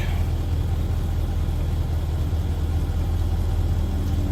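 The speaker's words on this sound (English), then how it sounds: "I still have the car running" A car engine idles steadily throughout, a loud low rumble with constant rhythm and no speech or other distinct sounds.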